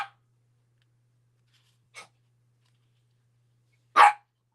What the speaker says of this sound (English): No more barking. Stop it.